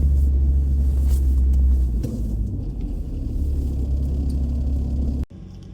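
A car drives through the mountain town of Szczyrk in December, its steady low engine rumble and road noise filling the cabin loudly and continuously before cutting off abruptly near the end.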